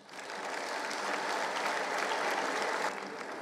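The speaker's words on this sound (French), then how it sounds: "les applaudissements nourris qui me parviennent marquent votre approbation" Hearty applause from a political party audience during a leader's address, a thick wash of clapping that swells in quickly, holds steady, then thins slightly near the end.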